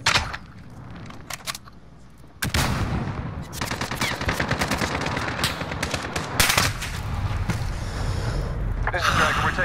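Rapid machine-gun bursts and overlapping rifle shots crackle almost without pause through a Call of Duty: Modern Warfare firefight, loud and close, with radio voices talking beneath the shooting.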